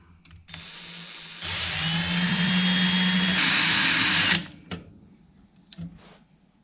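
A power drill fitted with a larger, sharper bit bores a hole in metal during a fan shroud and battery tray install on a Barracuda, a loud close whine lasting about three seconds, with brief clicks before and after.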